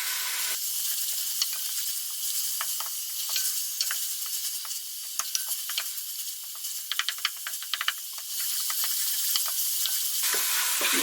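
Garlic, ginger and onions fry in a pan for a curry, giving a steady loud sizzle with scattered crackles and pops, close and continuous with no talking.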